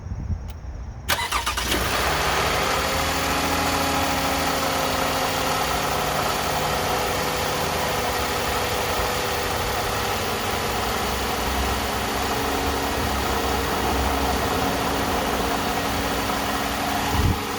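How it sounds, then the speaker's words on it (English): 2010 Toyota Camry XLE, cold and with a water pump problem, cranks and fires after a moment of quiet, then settles into a steady, even idle for the rest of the clip. "I will start the car now anyway."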